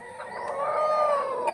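A hen on a backyard farm gives a single drawn-out, rising and falling cluck-cry lasting over a second, loud and close with no talking.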